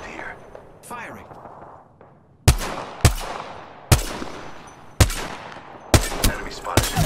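Gunfire in a video game: a series of loud, sharp single shots at irregular intervals, each with a decaying tail, preceded by quieter game sounds and a voice speaking.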